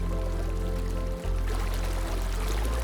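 River running through the green valley at the Gap of Dunloe near Killarney, a steady close rushing wash of water that continues without a break.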